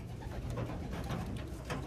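Racing pigeons coo softly at a loft, their low, throaty calls rolling on and overlapping at close range.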